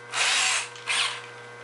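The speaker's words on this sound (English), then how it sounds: "It's a high quality step drill bit that's designed just for this kind of work. Just put it into a cordless drill" A cordless drill fitted with a step drill bit bores into an old plastic aero gutter in two close, whining bursts, the second shorter than the first, with no talking.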